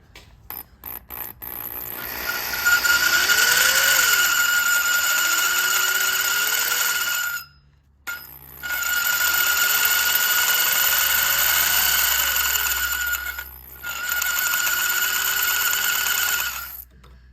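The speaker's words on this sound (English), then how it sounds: "I'm going to try and drill this out." A power drill whines loudly drilling into hard steel in long sustained bursts, its pitch rising and falling under load, with a brief pause between runs.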